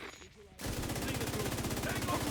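Rapid automatic gunfire in a video game, a dense, loud burst of evenly spaced shots starting abruptly after a short quiet stretch and continuing to the end.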